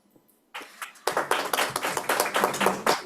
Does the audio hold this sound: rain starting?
no